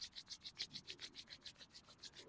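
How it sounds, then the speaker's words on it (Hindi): Both palms rub briskly together in a steady back-and-forth rhythm, about a dozen soft swishing strokes, close and quiet with no talking. "अब अपनी दोनों हथेलियों को रब करें, योग एनर्जी को जनरेट करें।"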